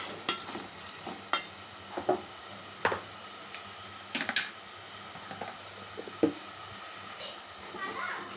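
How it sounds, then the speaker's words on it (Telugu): Ginger paste fries in a pan under a soft, steady sizzle. A spatula scrapes and taps the pan in irregular bursts. "ఇప్పుడైతే అల్లం కూడా పేస్ట్ కూడా ఫ్రై అయిపోయిందండి"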